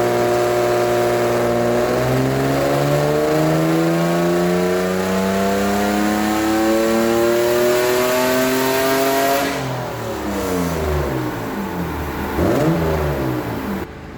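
A 2500cc engine on a dyno revs steadily upward toward 5000 RPM, a loud, sustained climbing whine, then drops off and blips again near the end with no voices.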